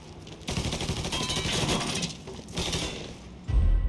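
Sustained enemy automatic gunfire in Mafia 3 rattles in a rapid, continuous burst for several seconds, loud and close, briefly easing before a heavier low thump at the end, with no talking.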